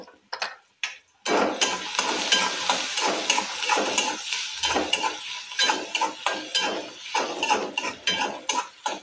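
Sliced onion sautéing with salt and turmeric in a pan, a spatula scraping and clinking against the metal in quick irregular strokes over a steady sizzle, close and fairly loud after a brief quiet start.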